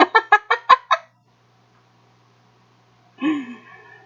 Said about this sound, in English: But if I play finch noises,